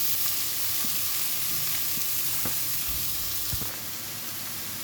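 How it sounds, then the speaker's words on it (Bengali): Chopped onion and green chili frying in oil in a pan for an aloo paratha filling, giving a steady close sizzle with a few faint clicks and no talking. "এবার পেঁয়াজ কুচানো দিয়ে দিচ্ছি, কাঁচামরিচ কুচানো দিয়ে দিলাম,"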